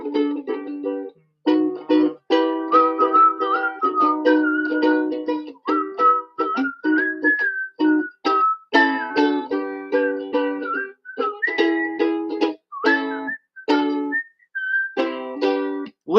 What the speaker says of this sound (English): whistles along.